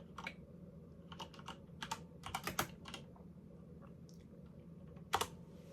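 Quiet clusters of keystrokes on a computer keyboard come in short, uneven bursts with pauses between them, ending with one sharper flurry of clicks.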